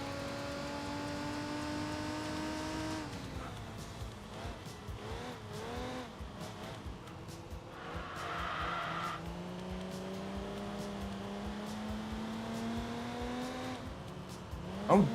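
A rally car in the racing game Enthusia Professional Racing revs through rising and falling engine sweeps, with tyre squeal and skidding during hard cornering, then a loud burst near the end.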